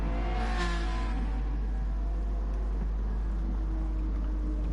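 GT race cars in a sim-racing championship at Blue Moon Bay, with a McLaren diving down the inside; a loud engine roar and whine swells in the first second, then settles into a steady, sustained motor drone.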